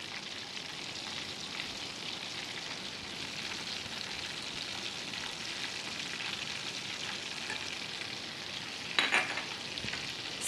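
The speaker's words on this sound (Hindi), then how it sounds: "अब हम अपने पैन में बटर डालेंगे।" Butter frying in a pan before garlic goes in, giving a steady, even sizzle close by, with one brief louder clatter near the end.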